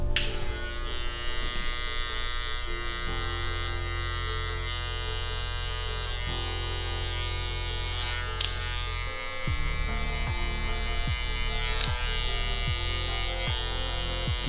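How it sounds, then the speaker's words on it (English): An electric hair clipper with no guard runs continuously during a high skin fade haircut, a steady close buzzing hum with brief clicks and shifts in tone as it moves, no talking. "We'll come back in with our clipper with no guard,"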